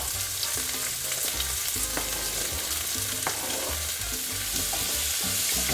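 Potatoes frying in a hot pan with garlic, green peppers and onions give a steady, dense sizzle, joined by intermittent scraping and stirring knocks that stay close and fairly loud with no voices.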